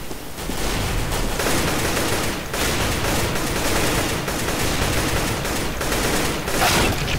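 Gunfire in the video game Counter-Strike: Global Offensive: dense, loud automatic firing that runs almost continuously with brief gaps, close and dominant throughout.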